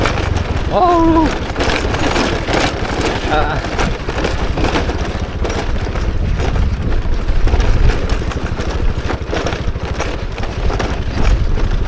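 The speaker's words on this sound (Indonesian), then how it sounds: "bisa kedengaran kan bodi motor saya ini sampai seperti ini nih bunyinya ini" A motorcycle's body rattles and clatters constantly under a steady engine drone while riding on a rough alternative road through Alas Gumitir from Jember. A brief exclamation cuts in early.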